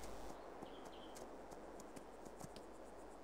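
Horse hooves clip-clop at a steady walking pace while the horse is ridden around a farm with a pasture and pen in a farming video game, the clear, regular hoof hits set over a soft ambient background without speech.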